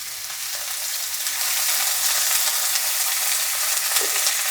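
Lau shak (bottle gourd greens) frying lightly in a little oil in a pan, a steady close hiss that swells slightly partway through with no voices.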